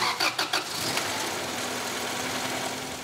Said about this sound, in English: So we're going to start up the engine